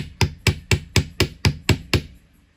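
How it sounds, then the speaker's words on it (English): Metal hammer tapping jewelry wire to flatten it: eight sharp, evenly spaced taps close up, each ringing briefly before the next, with no voices. "Give that a little hammer on the end."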